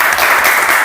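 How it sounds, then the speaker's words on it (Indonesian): A short burst of loud applause from a sixth-grade classroom, dense clapping from many students lasting under a second. "Tepuk tangan buat Viko."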